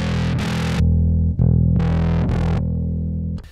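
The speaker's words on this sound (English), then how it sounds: "When it says DS, that means distortion." Bass guitar played through a distortion amp model on a Mooer GE300, a few gritty, fuzzy sustained notes with bright attacks, loud and close with no talking.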